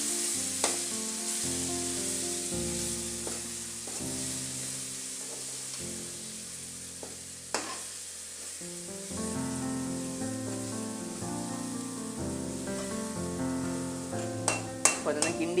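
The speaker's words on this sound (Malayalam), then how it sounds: "ഓക്കെ, അപ്പോൾ നമ്മളിതിലേക്ക് ആഡ് ചെയ്ത് നല്ല രീതിയിൽ ഒന്ന് കിണ്ടി കൊടുക്കുക" Crushed ginger, green chilli and garlic sizzle in a pan while being stirred, a steady fry broken by scraping strokes and a few sharp clinks, with a tonal hum running through.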